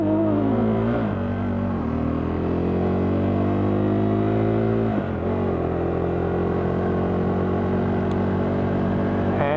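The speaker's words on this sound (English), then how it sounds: "I'm hearing sort of pops and splutters from the exhaust" KTM 390 Duke motorcycle engine running steadily with rising and falling revs, its exhaust note rough and uneven, with occasional pops and stutters.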